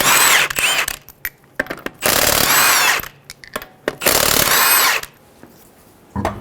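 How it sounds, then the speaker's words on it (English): A power tool with a 19mm socket removes the lug nuts from a 2003-2008 Honda Pilot wheel. Loud whirring bursts of about a second each, three of them, are broken up by short clicks and clanks and quiet gaps. "Using a 19mm socket, remove the 5 lug nuts."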